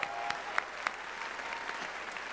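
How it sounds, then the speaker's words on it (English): Audience applause for roast master Dana Gould at a comedy roast of Bruce Campbell, with the clapping steady and moderately distant and a few sharper claps standing out. "Let's hear a round of applause for Dana."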